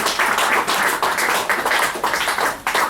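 A small audience at a book release reading claps steadily, a brisk uneven patter of hands that keeps up throughout, with no voices.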